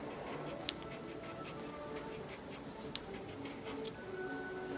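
Pen or marker scratching steadily across paper while sprinkles and garnishes are drawn onto a pop art ice cream picture, a soft continuous scribbling texture with a couple of tiny sharp ticks, close and quiet with no talking.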